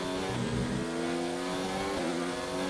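A rival Formula 1 car in the F1 2019 racing game at the Canada circuit, its engine a loud, steady, high-revving whine that stays close throughout with slight pitch shifts and no talking.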